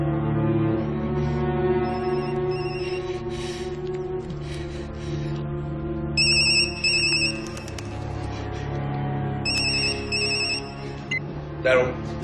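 A telephone rings after a call is placed, repeated electronic ring tones in bursts over a steady background of music or drama soundtrack, moderately loud.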